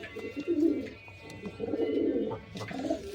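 Pigeons coo repeatedly in low, throaty bursts, fairly close, with a few faint chirps from other birds in the background.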